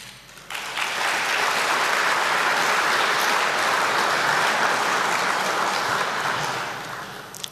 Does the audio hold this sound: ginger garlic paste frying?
no